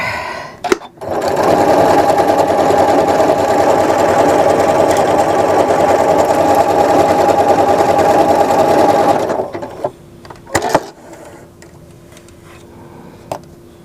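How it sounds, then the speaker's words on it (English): An embroidery machine fitted with a 75/11 blue embroidery needle and regular sewing thread stitches in a loud, fast, steady run for about nine seconds, then stops, followed by a few clicks and clacks. "I'm just using a 7511 embroidery blue needle and regular sewing thread to do the stitching"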